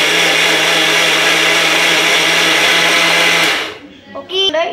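A blender whips cream with white chocolate and colouring for homemade tutti frutti vanilla ice cream, a loud steady motor whir running close and continuous before cutting off into brief clatter.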